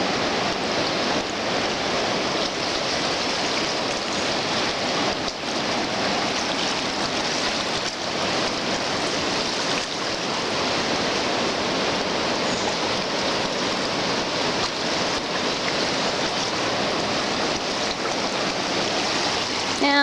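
Floodwater of the swollen New River rushes steadily, a dense broadband roar of turbulent flow holding constant and close for the whole stretch with no voices.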